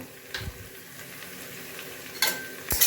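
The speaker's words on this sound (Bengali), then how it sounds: "ভালো করে নাড়াচাড়া করে নেব" A spoon stirs spice masala in a pan for chana kofta curry, with quiet sizzling and a few short scraping strokes at close range.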